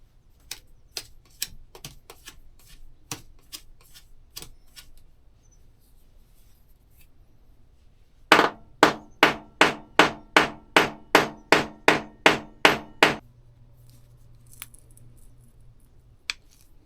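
Scattered light ticks come first, then a steady run of about a dozen loud, evenly spaced hammer blows flattening the end of a sand-filled metal tube for an Alaskan chainsaw mill oiler, closing with a brief hum.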